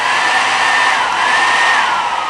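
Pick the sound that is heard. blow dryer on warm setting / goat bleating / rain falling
blow dryer on warm setting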